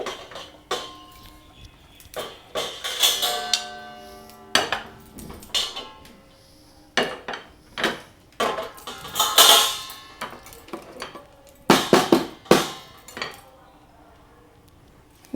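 An eggless chocolate cake made without a microwave is loosened from its pan with a spoon and turned out, with a series of sharp metallic clinks and knocks in irregular bursts and a voice talking between them.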